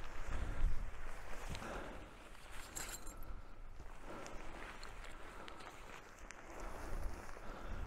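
Gusts of wind batter a microphone outdoors while an OEX Phoxx II tent is pitched. A steady, rough roar rises and falls in strength throughout, close and dominant, with no talking.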